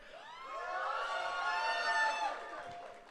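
Audience at a My Little Pony fan convention opening ceremony cheering and whooping, a dense crowd roar that swells over about three seconds and then eases slightly, with no speech.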